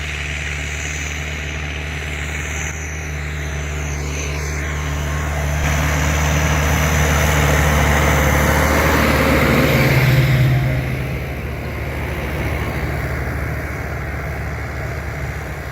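A FARMER-10286 tractor pulls a homemade deep subsoiler through a field at about 12 km/h. Its engine gives a loud, steady, droning roar that swells slightly midway and holds for the whole stretch.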